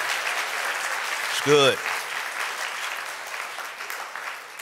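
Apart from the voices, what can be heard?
audience round of applause for campus pastors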